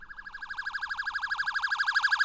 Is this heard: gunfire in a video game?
no